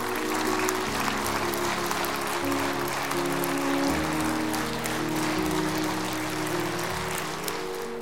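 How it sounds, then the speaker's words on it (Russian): An audience at a charity concert for disabled children applauds a boy on stage, a dense, sustained ovation of many clapping hands that holds steady and fills the hall, with music or a tonal drone underneath. "Тогда искупайте его в овациях"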